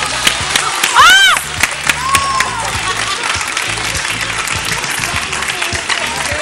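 Audience applause fills a Turkish TV studio show, with dense sustained clapping and crowd noise throughout, a brief whistle-like cheer near the start and light talk or shouts mixed in.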